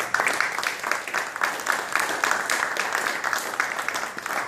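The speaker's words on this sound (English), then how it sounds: "so we give them a round of applause" Audience at an awards ceremony applauding steadily, a dense patter of many hands clapping at moderate distance for several seconds with no pauses.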